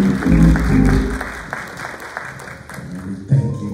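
A church congregation claps in praise during a testimonial service, with sustained crowd applause and low music underneath.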